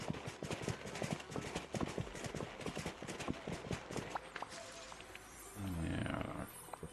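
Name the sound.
horse hooves clip-clop while riding in video game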